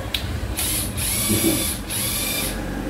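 A National EZ7542 electric screwdriver whines steadily at close range, with short pauses and a brief click as its rotation direction is switched.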